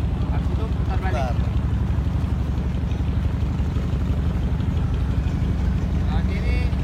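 Motorized river boats queue and take turns on a river cruise through Banjarmasin city, with a steady low engine drone running throughout, close and continuous, while voices talk faintly in the background.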